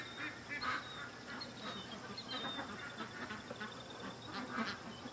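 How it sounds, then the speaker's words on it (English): Ducks walking near a swamp give scattered honking quacks over a faint outdoor background, several calls spread across the few seconds at moderate distance. "I watch the ducks walking back and forth, and they walk like within 2-3 feet of him"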